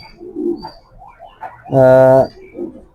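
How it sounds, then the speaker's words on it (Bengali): A 2017 racing pigeon with seven races behind it gives one loud, close, resonant coo lasting about half a second, surrounded by softer murmuring calls. "এটা আমার বিডার কবুতর এটা সাতটা রেস করা কবুতরটা"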